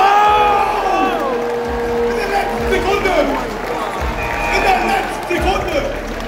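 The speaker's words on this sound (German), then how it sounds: "Nochmal ein bisschen Applaus hier in der Halle." A crowd cheers and whoops inside a sports hall during a creator basketball event, with loud rising shouts and general roar under a commentator's voice.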